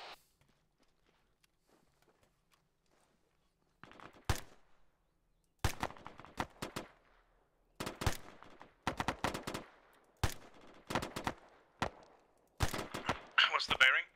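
Rapid rifle fire during squad section training outdoors: several bursts of sharp, loud shots in quick clusters after a quiet opening, with short pauses between volleys and a few faint footsteps.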